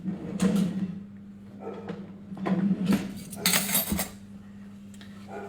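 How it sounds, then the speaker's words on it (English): Spoon scraping and clinking against a pot as rice, salt and water are stirred together, a few close metallic clatters over a steady low hum, without any talking. "I'm going to give it a stir with a spoon"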